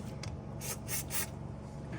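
A spray can hisses in three short bursts onto a wiring connector of a 2000s Mercedes E55 AMG W211, close and fairly loud over a low background hum.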